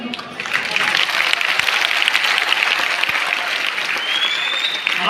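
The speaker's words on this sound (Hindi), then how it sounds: "ये तालियों की आवाज सीमा बन जाएगी" Audience applause at a university poetry recital by a poet, a dense, steady clapping from a large crowd that holds loud and even for several seconds, with faint voices underneath.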